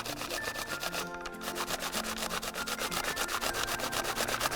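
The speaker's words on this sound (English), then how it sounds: "Just give it a good grating here." Courgette rubbed back and forth on a box grater in a kitchen, a steady rapid rasping of regular strokes running close and continuous throughout, with no talk over it.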